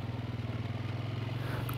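A quad bike or motorbike on a New Zealand dairy farm, its engine a steady low drone that runs close and continuous throughout, with a faint clatter on top.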